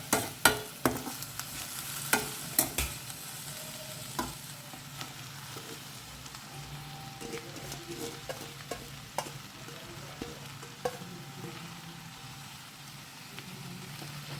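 Cassia tora leaf bhaji is mixed in a small pan, with a soft sizzle under scattered scraping clicks of the spoon, quiet and steady.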